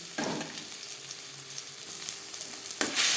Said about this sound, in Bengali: গোটা জিরে তেজপাতা ভেজে নেব